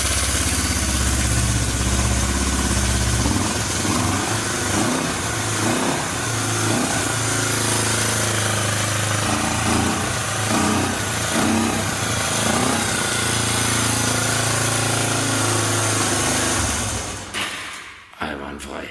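A Honda CB 250 motorcycle engine runs steadily and loudly at close range with a throbbing idle, then cuts off near the end.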